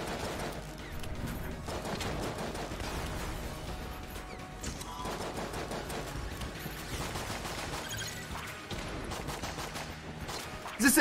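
Rapid gunfire from the Enter the Gungeon video game, a dense, continuous barrage of shots and crashing impacts layered with game sound, steady and loud throughout.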